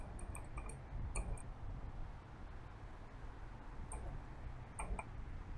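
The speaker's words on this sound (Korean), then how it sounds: "아 시계 소리는 또 왜 이렇게 커?" A clock ticks in the horror game Monster Abode, faint sharp ticks in small clusters over a steady low wind-like background hum.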